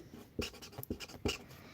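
Pen scratching across paper in short strokes, with a few sharper taps between them, close and fairly quiet with no voices.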